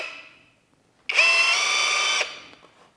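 An Avhrit cordless impact wrench running in low mode to reinstall lug nuts, a short whirring motor burst with a rising whine that holds for about a second before spinning down, following the fading tail of an earlier run.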